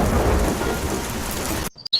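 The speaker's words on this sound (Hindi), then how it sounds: "और ऐसी मूसलाधार बारिश हुई जैसी नीलगिरी के इतिहास में कभी नहीं देखी गई थी" Heavy, loud rain pours with a deep rolling rumble of thunder, a dense roar that cuts off abruptly near the end, leaving only a few faint drips.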